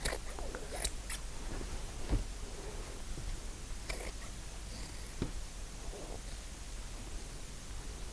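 Scissors snip into a knit sweater at the shoulders, a few soft crisp cuts and fabric rustles over a steady background hiss, close and quiet, with no talking.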